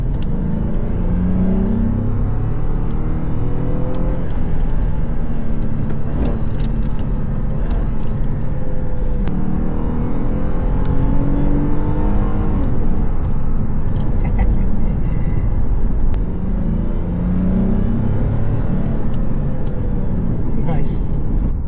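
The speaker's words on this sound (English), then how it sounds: "The induction noise it makes under load." A Lexus IS250 engine pulls hard under load, its induction roar rising and falling through acceleration as a steady, loud rumble fills the cabin, with voices talking over it.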